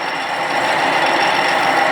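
Grinding machine resurfacing an Opel cylinder head, a steady, loud, continuous abrasive whir with a dense hiss that holds level throughout, with no voices over it.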